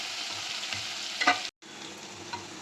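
Small onions, garlic and curry leaves sautéing together in a pan for South Indian pepper gravy, a continuous close sizzle with a brief stirring clatter, then a short cut before the sizzle resumes.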